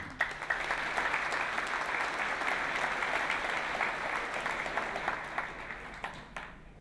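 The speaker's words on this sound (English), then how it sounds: "Please put your hands together for Rowan Cameron." Sustained, dense applause from a large crowd at a community rally in Bankstown Sports Club, welcoming a speaker onstage; steady and full for several seconds before tapering off at the end.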